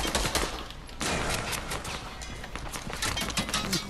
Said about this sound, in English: Bro, Darius, shoot at one of them.